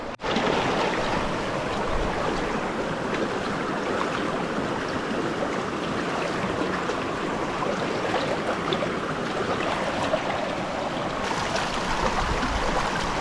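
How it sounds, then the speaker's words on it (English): A small stream in the Elan Valley, Wales, runs with a continuous close bubbling wash of water, steady throughout with faint splashes as a water bottle is filled. "we found a nice little stream running down here"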